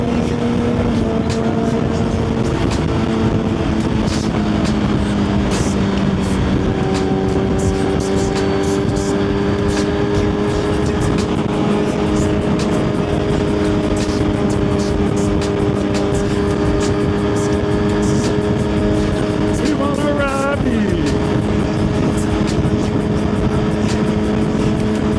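A Suzuki GSX-R1000 motorcycle rides along the road past trucks, with loud steady engine drone and rushing wind throughout and pitch shifting as the vehicles pass.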